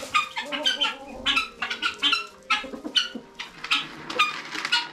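Several hens cluck and chatter close by in quick, overlapping bursts, with soft rustling of shredded paper bedding between the calls.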